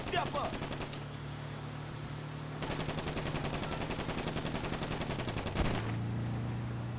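Rapid automatic gunfire rattles from the back of a moving vehicle in Grand Theft Auto V, sustained bursts over a steady engine drone, with brief speech mixed in.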